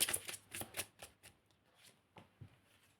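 Tarot cards being shuffled and drawn, a burst of quick papery riffling flicks followed by a few separate soft card slaps and slides, close and quiet.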